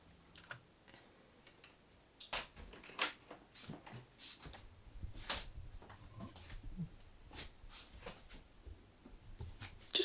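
Scattered key presses on a mechanical keyboard with Zealios V2 tactile switches, clicky and uneven, some louder taps standing out against quiet pauses.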